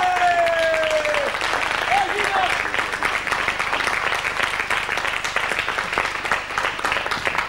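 A crowd applauds steadily, dense clapping continuing throughout at an even, fairly loud level, with a brief tone early on.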